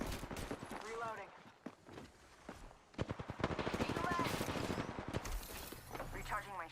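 Rapid bursts of automatic gunfire in a shooter video game, loud and repeated in dense volleys, with brief voice lines and other game sounds between them.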